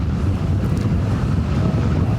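Strong Hurricane Irma wind gusts roar across the microphone on Fort Lauderdale Beach, a steady loud buffeting rush with no voices.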